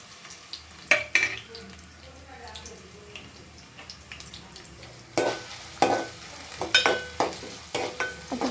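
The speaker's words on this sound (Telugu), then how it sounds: "తర్వాత సన్నగా తరుక్కున్న ఆనియన్స్ వేసి వేయించుకోవాలి" Thinly sliced onions fry in oil with a soft steady sizzle, broken by sharp clatters of a spoon stirring in the pan, close by and fairly quiet.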